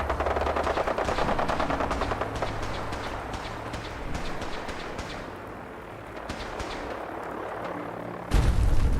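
Battle gunfire from the video game Fallout 4: dense, rapid automatic bursts and scattered shots crackle continuously at close range, easing briefly before resuming, with a louder burst at the end.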